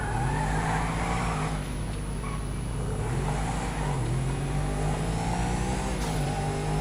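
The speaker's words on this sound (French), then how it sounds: "J'adore ce bruit des passements de vitesse," Buffalo car engine in GTA V, a steady droning engine note that rises and dips with gear shifts throughout, close and continuous with no talk.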